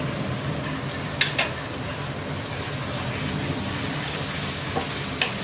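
Tomatoes with ginger garlic paste frying in a pan for an egg masala curry, a steady crackling sizzle throughout with occasional sharper pops and stirring scrapes, no voices.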